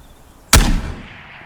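A single flare gun shot in Escape from Tarkov: one loud, sharp boom that rings out and decays over about a second, alone with no talking.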